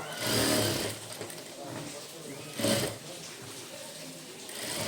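Sewing machine running steadily while stitching the bottom edge of a blouse for a 3–5-year-old, a continuous close whirring with brief surges, under a voice talking.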